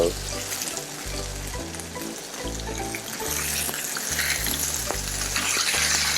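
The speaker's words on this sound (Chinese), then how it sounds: "通常都会先煎鱼皮的部分，对，先煎鱼皮的部分。" A mackerel fillet frying skin-side down in oil in a pan, with a close, dense sizzle running throughout, overlaid by a low pulsing hum and occasional clinks.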